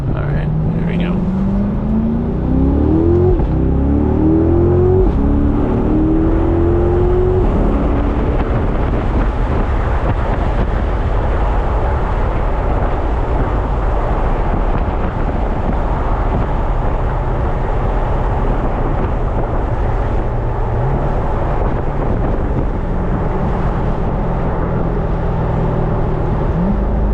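Sports car with an automatic gearbox pulls hard at full throttle, its loud engine note climbing steadily through a rising sweep, then droning on under heavy wind buffeting for the rest of the run.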